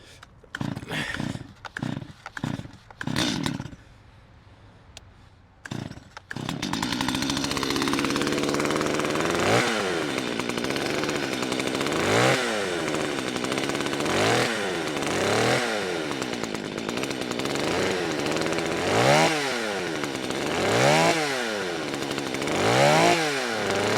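A Stihl 025 chainsaw is pulled several times in short sputtering bursts, then catches and runs loud and close, its engine rising and falling in repeated revving cuts as it bucks through scrap wood.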